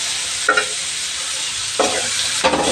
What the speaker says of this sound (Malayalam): മമ്മി ഇളക്കി കൊടുക്കുകയാണ്